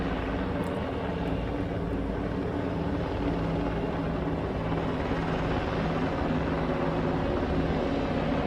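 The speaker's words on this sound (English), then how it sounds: "Here's a video of helicopters chasing what appears to be mystery drones or orbs." Helicopters flying overhead while pursuing unidentified drones or orbs, a steady droning rotor and engine rumble that holds constant throughout, fairly loud, with no speech.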